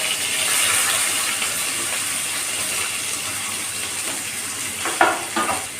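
Curry leaves are stirred into a frying tomato curry base, giving a loud, dense, steady sizzle with a few spatula clatters near the end.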